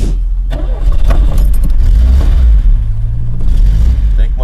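A car engine turns over and settles into a low, rough idle, loud and close with a deep steady rumble throughout; the idle may be running slightly low.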